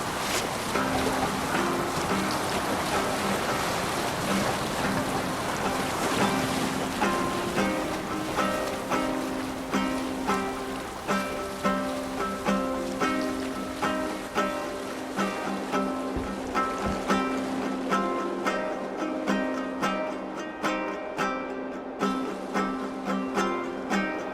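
A longship sailing on the sea in Assassin's Creed Valhalla, with steady wash of waves and wind under tonal music and rhythmic pulses that continue evenly throughout.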